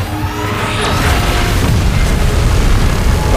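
A loud, dense roaring blast rumbles on for several seconds as Godzilla's beam strikes in PUBG Mobile, broadband and sustained, with no pause or talk.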